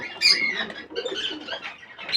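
Native deshi pigeons call in a short, busy burst of overlapping coos and chirpy notes, close and fairly loud, with no pauses.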